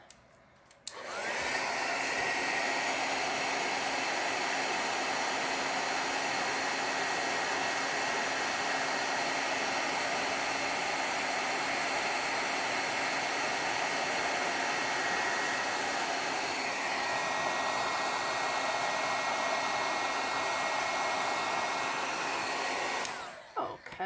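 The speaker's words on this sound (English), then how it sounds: "I'm going to pack away that and heat set this with my heat gun." A heat gun blows a loud, steady rushing hiss for over twenty seconds while heat setting embossing powder on a handmade card, starting and stopping abruptly with no voices.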